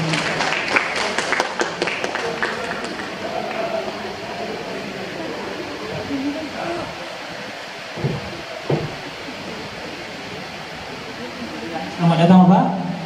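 Audience applause at an Indonesian national literature seminar during a literature festival, a roomful of clapping that fades into a hall's ambience, with a host speaking over it.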